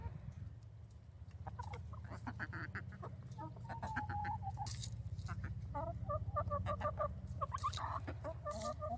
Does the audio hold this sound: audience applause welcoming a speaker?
no